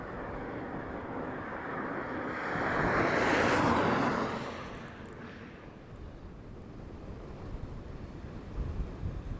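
Sea surf rolls onto a Scottish island shoreline, a broad wash of breaking waves swelling louder in the middle and easing off, with steady wind buffeting throughout and no talk.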